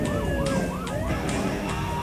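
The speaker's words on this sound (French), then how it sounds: "Ah oui, on dirait une sirène" A siren wails in fast repeating rising-and-falling sweeps, steady and moderately loud over a low road rumble.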